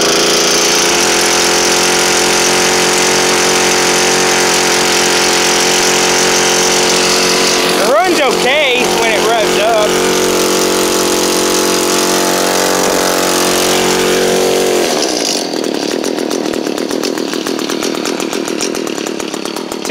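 A 2015 Echo PAS-266 two-stroke power head runs close by, a loud buzzing whine that dips and surges briefly midway before settling into a steady high idle.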